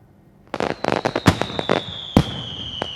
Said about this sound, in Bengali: 31st নাইটের আতশবাজি